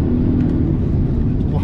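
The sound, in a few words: Polestar 1 car under full acceleration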